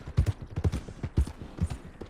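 Horse hooves clip-clop in Red Dead Redemption 2, a close, brisk run of paired hoof strikes in an even rhythm over a short stretch.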